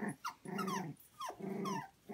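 Puppies growl and whimper in repeated bursts close by, low rumbling growls broken by rising whiny yelps, with short pauses between the bouts and no talk over them.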